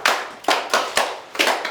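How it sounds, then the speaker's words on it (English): A few claps in a physics classroom, about six separate sharp hand claps at an uneven pace, close and fairly quiet, with no talking. "Clap for him."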